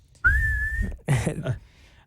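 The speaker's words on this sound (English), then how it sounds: "we got our whistle" A referee's whistle at a friendly football game signals the two-minute warning: one steady, sustained blast of under a second, followed by a voice.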